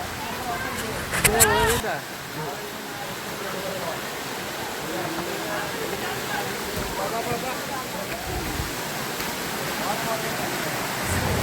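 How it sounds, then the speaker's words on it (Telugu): The Kondapalli waterfall, where water flows down from a hill, sends out a steady broadband rush. The water sits at a middle distance, and people talk over it throughout. "నీళ్ళు చూసారు కదా, అది అసలు కొండ పైనుంచి వస్తున్నాయి గాయస్."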